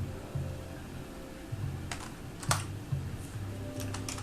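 Brisk typing on a computer keyboard, close and clear, with clusters of key clicks and a few sharper louder strokes, like a spacebar or enter key, over a low steady hum.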